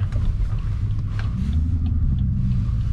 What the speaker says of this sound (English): to have some drag race in the middle of the night with a V8, badass V8